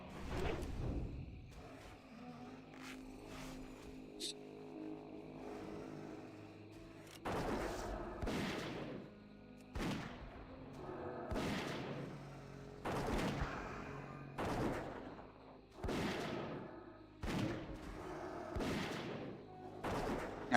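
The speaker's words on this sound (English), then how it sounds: "I had not been seen a gun that can fire so fast in the game" A very rapid-firing gun in a video game lets loose repeated loud bursts of fire at a steady rhythm after a quieter start, each volley cracking sharply with no talk.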